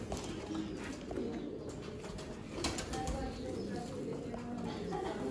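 Pigeons at a Sialkot pigeon dealer's loft coo softly and intermittently, low and fairly close, against a steady, noisy background.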